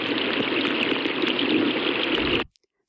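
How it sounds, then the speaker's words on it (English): Running water or heavy rain plays as a recorded sample, a dense, steady hiss-and-gush that lasts about two and a half seconds and then cuts off abruptly to silence. "So that's the sound of running water or rain."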